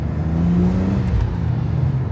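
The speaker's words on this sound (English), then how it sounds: "We've got the Triptronic, so if I turn this over like that, I can just bang through the gears, like drop it down" A Ford Barra-engined naturally aspirated car with Tiptronic-style shifting revving as it goes up through the gears, a loud close engine drone rising and falling in pitch with each shift, no talking over it.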